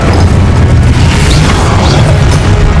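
A Confringo spell explosion in Hogwarts Legacy: a loud, sustained booming blast with dense rumbling and crackle filling the whole moment, no pause or talk.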